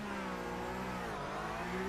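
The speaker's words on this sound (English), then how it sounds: "Right, revs are building." A Porsche race car in the Porsche Tag Heuer eSports Supercup on iRacing holds its engine at high revs on the start grid, a steady loud buzzing drone that rises slightly in pitch, close and continuous with no talking.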